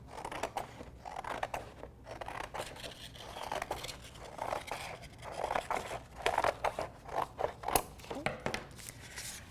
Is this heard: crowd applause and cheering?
no